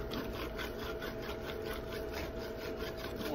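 Utensil scraping the bottom of a cooking pan of spaghetti squash with walnut chili, a continuous close rasping scrape with rhythmic strokes and no talk.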